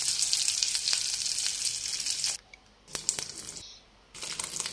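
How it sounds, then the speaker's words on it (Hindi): Veg corn and cheese momos fry in a pan of oil with a dense, steady sizzle, broken by two short quiet gaps as the pan is moved or stirred, then resuming close and clear. "उसमें डाला थोड़ा सा ऑयल एंड मोमोज डाले एंड फिर इसको मैं फ्राई कर रही हूँ।"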